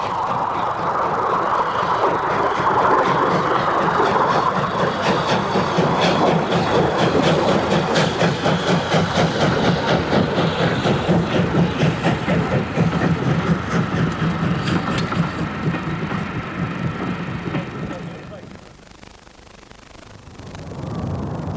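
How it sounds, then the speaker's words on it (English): A T9 steam locomotive propels two coaches along a preserved heritage line, a steady rumble with rhythmic clickety-clack of wheels on rail joints that stays loud, then fades to near quiet before rising again at the end. "the T9 propelled 2 coaches to Townsend Field"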